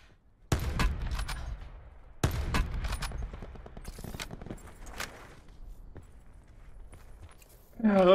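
Gunfire in Call of Duty Blackout, with two sharp, loud bursts of shots near the start and scattered quieter shots after them, over steady game ambience. A short sound effect plays at the end.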